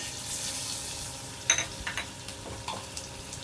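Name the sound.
chopped onion frying in oil in a pan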